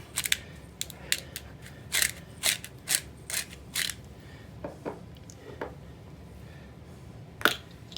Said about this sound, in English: We'll add a little salt and pepper.